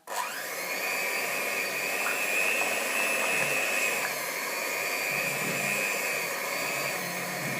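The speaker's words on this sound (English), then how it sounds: "on a low speed, you're going to use an electric mixer to mix all this stuff together." An electric mixer on low speed beats a cream cheese mixture with vanilla for a baked Oreo cheesecake, giving a steady, even motor whine that runs throughout at moderate volume, with no speech.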